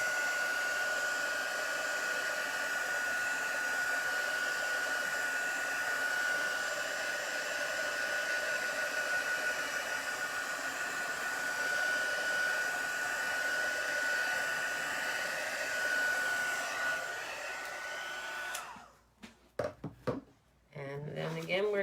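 A heat tool or dryer blows steadily over chalk paste on a stencil, a loud constant whirring hum for most of the clip before it cuts off near the end as someone begins speaking.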